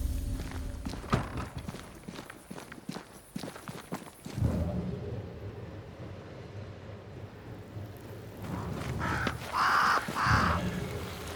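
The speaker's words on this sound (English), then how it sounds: "Crows. They flock to that great tree up there." Crows caw in Banishers: Ghosts of New Eden, several harsh calls sounding near the end over a stormy backdrop of rain, thunder rumble and footsteps.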